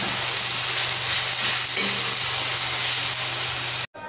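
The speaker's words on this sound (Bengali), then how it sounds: "এই যে সব ম্যারিনেট করে রেখে দিয়েছি, একসঙ্গে মশলাটা কষিয়ে নিচ্ছি।" Marinated chicken with masala sizzles loudly in a hot pan on a home stove, a dense continuous frying hiss with faint stirring, cut off abruptly near the end.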